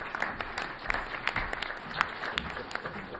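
A crowd applauding steadily, dense overlapping claps with a few sharper individual claps standing out, moderately loud throughout.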